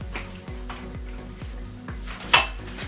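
Butter and sugar going into a mixing bowl for owl chocolate cupcakes, with a run of close, regular clinks and knocks of utensils against the bowl and one sharper clatter near the end, no talking.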